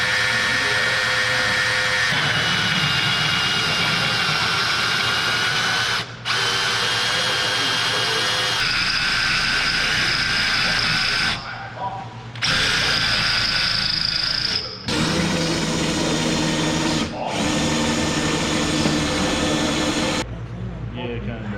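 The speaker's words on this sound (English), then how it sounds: "I'd say that drill is junk." A wobbly, worn-out power drill whines steadily and loudly at close range, running long stretches with a few brief stops and restarts, while someone talks over it.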